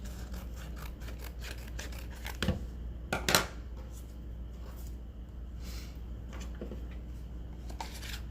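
Scissors snipping off a rough edge of material while crafting a journal, a few quiet cuts and rustles with a couple of sharper snips in the middle, close and fairly faint.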